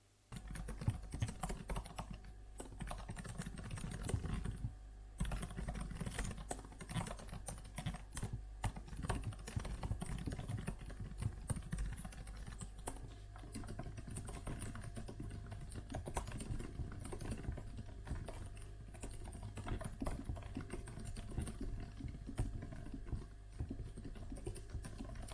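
Typing on a 2020 MacBook Air keyboard with scissor-style keys of modest travel, a steady, close run of soft rapid key clicks continuing throughout with no talking.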